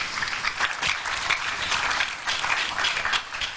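Audience at an International Women's Day event applauding steadily, a dense wash of many hands clapping continuously for several seconds.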